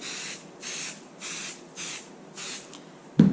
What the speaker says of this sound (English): I'm now going to spray with 505 spray again.